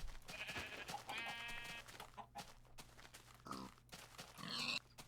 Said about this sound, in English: There's only 2 sheep here.